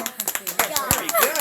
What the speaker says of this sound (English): Let's give Dante a round of applause